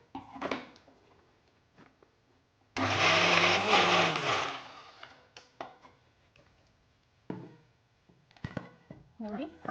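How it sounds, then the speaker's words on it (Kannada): A mixer grinder whirs loudly for about two seconds, grinding chana dal, grated coconut and onion, with sparse talk and clatter before and after. "ಇದಿಷ್ಟನ್ನ ಫಸ್ಟು ಗ್ರೈಂಡ್ ಮಾಡ್ಕೊಂಬಿಡೋಣ"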